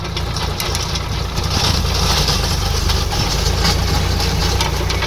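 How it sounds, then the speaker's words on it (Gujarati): A tractor engine rumbles steadily at close range while spreading soil and manure on a farm, a loud, continuous low drone with a rattling edge and no talking. "આપણે જોઈ રહ્યા છો કે ટ્રેક્ટરથી માટી અને ખાતર એ ફોરાઈ રહ્યા છે"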